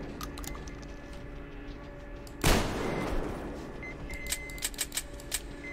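A single loud shotgun blast in the video game Metro Exodus, with a sharp broadband crack trailing into a short decay, set among quieter game sounds and small clicks.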